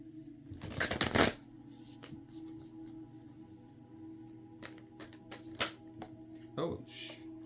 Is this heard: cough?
no